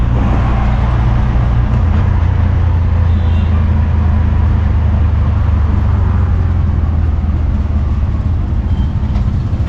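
Loud, constant engine rumble and road noise from inside a moving auto rickshaw, droning steadily throughout.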